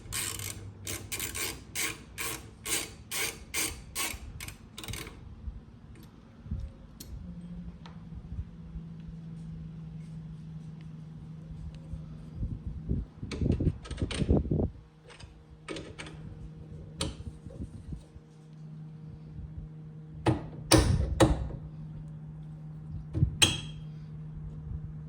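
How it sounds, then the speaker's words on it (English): Ratchet tightening the mounts of a Stealth motorcycle exhaust during installation, giving bursts of rapid clicking at the start, then scattered ticks and short clicking runs over a steady low hum. "and then we'll tighten down our mounts."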